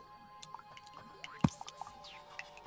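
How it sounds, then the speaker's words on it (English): Water in Terraria makes soft, scattered dripping and squishy liquid sounds with one sharper splash near the middle, quiet under faint game background noise. "It looks like we just ran into a whole bunch of water."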